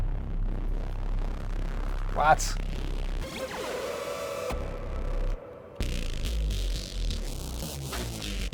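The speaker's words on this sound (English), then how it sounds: "it's called a grok filth bass." Grok filth bass synth instrument played in the Dreams video game on PS4, harsh distorted growling bursts that swell and cut off abruptly, with a brief voice interjecting.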